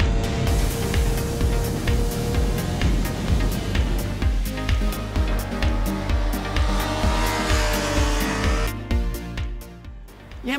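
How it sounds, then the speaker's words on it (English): A 2017 Yamaha YZF R6 sport motorcycle laps Sydney Motorsport Park, its high-revving engine screaming steadily with gear changes and rising and falling pitch, loud and close throughout. "we're really keen to ride this bike because they're usually a lot of fun around racetracks"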